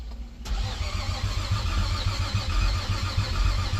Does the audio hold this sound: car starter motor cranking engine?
yes